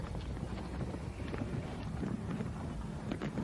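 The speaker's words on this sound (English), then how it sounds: "Boy, it's nice when that cool wind hits you." Cool wind blowing outdoors, buffeting the microphone with a steady low rumbling roar and gusty fluctuations throughout, no voices.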